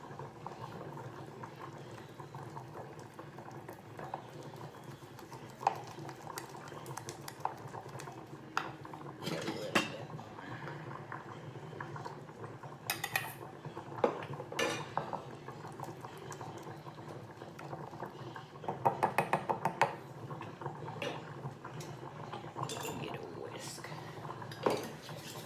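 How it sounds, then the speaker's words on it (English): Beef gravy whisked in a pot, a low bubbling simmer with frequent clinks and scrapes of a metal utensil against the pot, a voice speaking intermittently over it. "Whisk it around."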